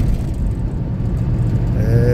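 Steady, loud low engine drone from a 1990 Cadillac Fleetwood Brougham held in third gear, with a faint rising whine near the end and a brief voice underneath.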